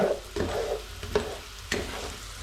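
Tofu cubes coated in corn flour frying in very hot oil, a steady close crackle broken by three sharp stirring clatters as the pieces are turned, with no voices.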